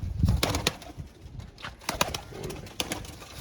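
Pigeons coo close by in low, soft bursts, with a few sharp rustles and clicks between the calls.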